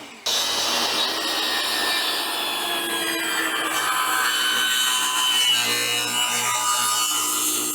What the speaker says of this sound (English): I'm just going to get it started on the table saw and then I'll clean it up with the jigsaw.